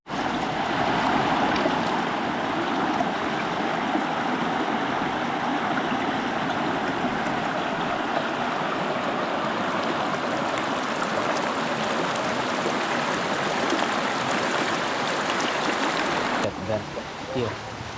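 River water flowing steadily, a broad continuous rushing wash heard close and moderately loud throughout, with a change in texture near the end and no clear speech.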